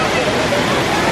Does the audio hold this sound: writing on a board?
no